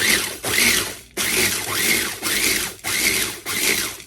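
Electric food chopper grinding bacon with kosher salt into bacon salt, running in five short bursts of roughly half a second each, a whirring motor that rises and dips with brief pauses between pulses.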